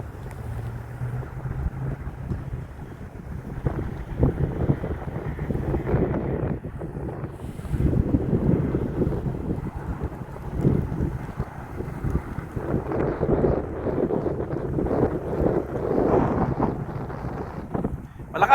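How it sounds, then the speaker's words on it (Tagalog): Strong, bitterly cold wind at a toboggan hill in Canada buffets the microphone in steady, rumbling gusts that swell and ease throughout, with a low roar underneath and no clear speech. "Malakas yung hagupit ng hangin"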